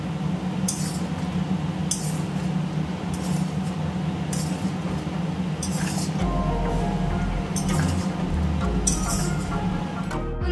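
A utensil clinks against a pan at a steady rhythm as mutton kosha masala is mixed, over a constant background hum that grows into a low rumble partway through.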